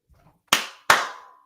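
Two sharp hand claps, close and loud, the second following about 0.4 seconds after the first, each with a short ringing tail in a quiet room.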